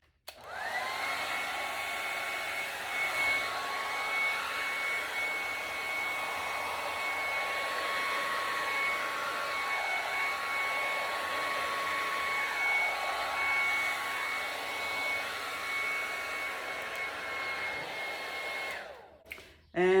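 A hair dryer blows steadily across a Dutch-style acrylic paint pour made with paint straight from the bottle and titanium white cell activator, a continuous close whir lasting the whole stretch with slight wavering pitch and no talk.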